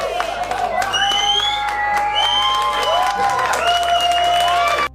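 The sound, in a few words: audience clapping and applause at comedy show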